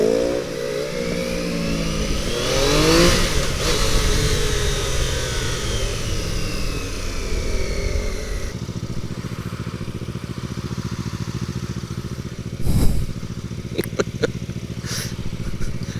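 A 2024 Triumph Daytona 660 sport motorcycle with a three-cylinder engine drones steadily, its revs sweeping up early and then settling into a lower, even hum with a brief louder bump near the end.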